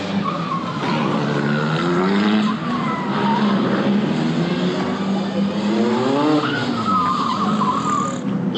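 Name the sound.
Rally 1 cars in tyre warming area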